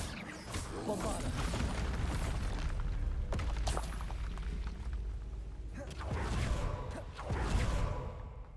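A Bombarda blast spell bursts in Hogwarts Legacy amid ongoing game combat, a booming crack with whooshing debris layered over dense battle noise and a couple of later impacts.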